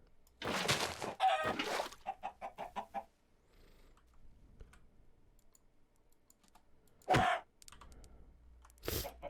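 Chickens clucking in the Minecraft modpack Project Ozone 3, short bursts of clucks alongside quick computer keyboard typing, with quiet stretches between them.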